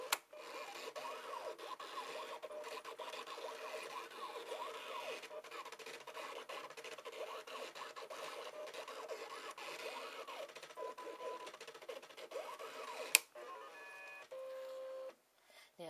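An eCraft cutting machine cutting fabric hums with a continuous fine whirring and ticking movement, then a sharp click and short motor bursts near the end, fairly quiet and close, no talk.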